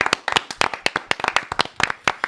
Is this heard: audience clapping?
yes